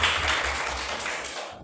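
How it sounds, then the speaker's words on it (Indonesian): A classroom of primary school children claps for a student after an answer, a steady dense patter of hands lasting the whole moment, fairly close and even before it stops abruptly. "Oke, tepuk tangan untuk Gila."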